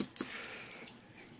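A dog named Rocky whimpers in short, thin, high whines, several brief cries in quick succession, close by with faint background noise and no talk.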